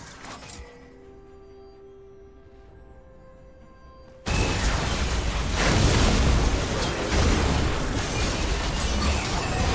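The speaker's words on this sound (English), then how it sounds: "Blue team's turret has been destroyed." A turret collapses in League of Legends during a mid-lane Zed versus Tristana match, with a sudden loud crashing burst after a quiet stretch, then a sustained dense roar of rubble and battle noise that stays loud to the end.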